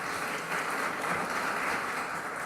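Applause from the audience at a Peruvian Supreme Court extraordinary criminal plenary session, heard as a faint, even wash of clapping that holds steady throughout.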